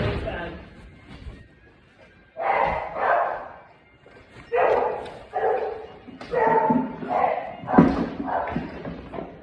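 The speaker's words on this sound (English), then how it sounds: "The only barking that you're now hearing is the last area, which is not yet being fed." Kennel dogs bark at morning feeding time, sharp barks and yips coming in repeated clustered bursts, moderately close, with whimpers between the volleys.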